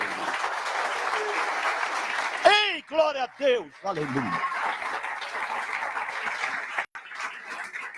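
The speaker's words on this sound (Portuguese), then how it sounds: "Você pode dar um aplauso a Jesus Cristo." A congregation applauds steadily during a church service, with a continuous wash of clapping that runs throughout while a man briefly calls out over it in the middle.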